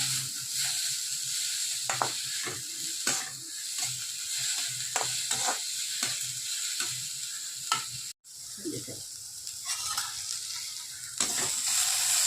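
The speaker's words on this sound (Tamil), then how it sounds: "லைட்டாக வெங்காயம் வதங்கணும்." Onions sautéing in a pan for a ridge gourd and egg stir-fry, giving a steady close sizzle with repeated scraping and clicking stirs and one brief dropout partway through. No one speaks.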